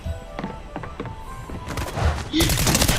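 Gunfire in the Fortnite video game, with a few quick shots early, then a denser burst of firing, and a gasp from a player nearby.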